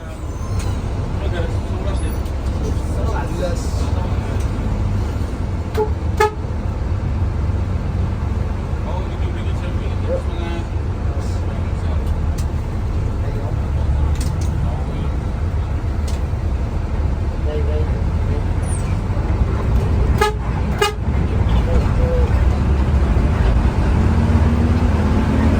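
Steady, loud cabin rumble of a Sugeng Rahayu intercity bus driving on the Jogja–Madiun route, with a few sharp transient blasts that could be horns, under occasional talk.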